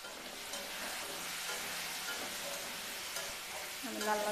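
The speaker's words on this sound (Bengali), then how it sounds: "আমি লাল লাল করে আলুটাকে ভেজে নেব।" Potatoes frying in oil in a pan for a Bengali fish-head muri ghonto, a steady close hiss and crackle running throughout without a break, no talk over it.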